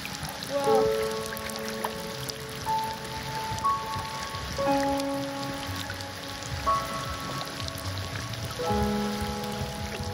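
Steady rain falling in the Philippines, a constant hiss of drops pattering on surfaces with a few faint tonal sounds drifting over it and no voices.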